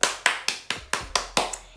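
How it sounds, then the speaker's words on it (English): Hand clapping close by, seven sharp, evenly spaced claps in quick rhythm, alone with no talk. "hand clap to you"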